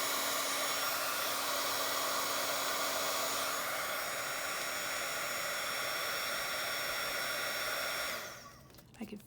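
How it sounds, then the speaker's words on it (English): A heating tool blows hot air in a steady, loud, close whoosh for about eight seconds, then cuts off and winds down near the end. "I know this heating tool gets really hot really fast"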